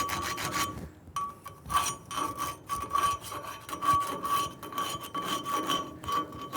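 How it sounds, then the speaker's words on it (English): Slag is chipped and brushed off a 6010/7018 pipe weld bead in the 6G position, a rapid series of close, scraping, rasping strokes repeating steadily with no talk. "Go ahead and we'll just knock the slag off of it."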